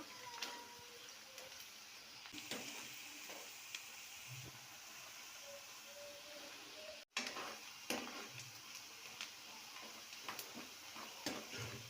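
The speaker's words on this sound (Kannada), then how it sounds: "ಈಗ ಇದು ಚೆನ್ನಾಗಿ ಫ್ರೈ ಆಗಬೇಕು" Low frying sizzle in a pan while lemon rice (chitranna) cooks, a steady soft crackle with occasional stirring scrapes and brief clinks, broken by a short dropout midway.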